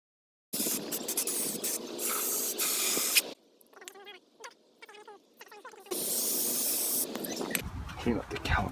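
Brake cleaner sprayed onto the brake caliper of a 2013 Jeep Wrangler JK: two long, loud hissing blasts separated by a quieter stretch of clinking and handling noises.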